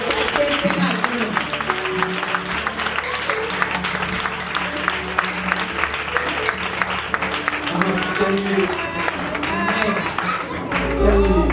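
A church congregation applauds and cheers in acclamation of the Lord, steady loud clapping mixed with voices and music throughout.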